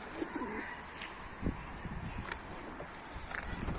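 Pigeons coo faintly and on and off in Istanbul as a flock flies overhead on a windy day, the soft calls spaced apart over a quiet background with a little talk.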